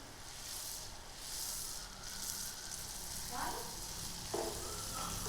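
Rose cookie batter for achu murukku is dipped into hot oil and fries with a steady, soft sizzle and crackle, a few sharper pops rising briefly near the end.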